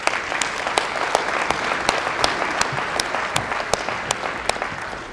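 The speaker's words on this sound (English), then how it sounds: "Round of applause for Addie." A full room claps for a youth leadership award winner at a Breakfast of Champions event, dense sustained applause with a few sharp claps standing out, loud and with no talk over it.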